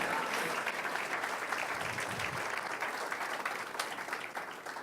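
A church congregation applauds for the King during a Spanish-language sermon, steady broadband clapping sustained at even loudness throughout, with no voices standing out.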